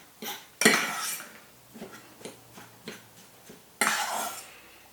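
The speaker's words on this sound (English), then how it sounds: "Just mash it and scrape it off the bottom until there's nothing left on the bottom." A utensil mashes cheese rice and scrapes it from the bottom of a pan, making sharp metallic scrapes and rhythmic clinks in short repeated bursts that sound close and fairly quiet.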